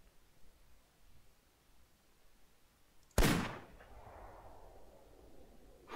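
One loud, sharp rifle shot fired at a Eurasian lynx in the hunting game theHunter Classic, followed by a rolling echo that slowly dies away over quiet outdoor ambience.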